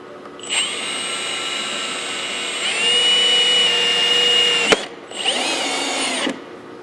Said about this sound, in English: Now we got to get a bigger drill bit to make a spot to run this harness through.